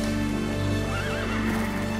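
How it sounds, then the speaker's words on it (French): A horse whinnies in a wavering, high neigh over a steady background hum, with faint hoof clatter beneath. "Cheval!"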